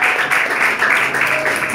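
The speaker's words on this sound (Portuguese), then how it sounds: "Pode sentar aplaudindo ao Senhor nessa noite." A church congregation applauds during an evening worship service, a loud, continuous roar of clapping filling the hall without pause.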